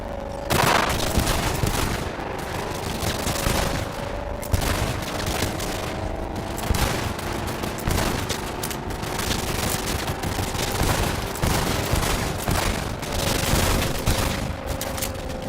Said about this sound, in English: drawing your weapon allows you to lean out the window and use your entire arsenal